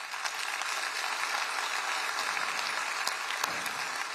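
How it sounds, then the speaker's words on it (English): Sustained, fairly distant audience applause at a county address, a steady dense patter of many hands with a few sharper individual claps standing out. "Now that deserves a round of applause."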